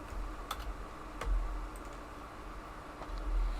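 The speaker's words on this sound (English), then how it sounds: "Am I using a standard keyboard? Yeah, it's nothing crazy. It's a Logitech K350" Typing on a Logitech K350 computer keyboard, a quiet scattering of soft key clicks with a few sharper taps over steady room hum, no voices.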